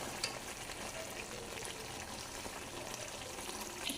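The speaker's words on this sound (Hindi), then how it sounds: "अब मज़ीद हमें 1 मिनट तक बस इसे और भूनना है।" Lahori-style chicken karahi fries in a pan, giving a steady close sizzle with faint stirring scrapes and no talking.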